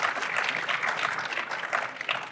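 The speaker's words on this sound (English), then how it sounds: "Let's give them a round of applause for being here." An audience at a Bitcoin conference gives a dense, even round of applause, many hands clapping together in a large room.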